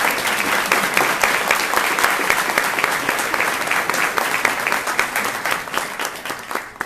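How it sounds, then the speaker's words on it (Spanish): A conference audience at a news-media forum applauds a speaker, producing a loud, dense and continuous wash of many clapping hands that holds steady from start to finish. "Un aplauso, por favor."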